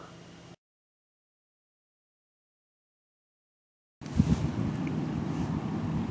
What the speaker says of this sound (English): trying to shield the wind here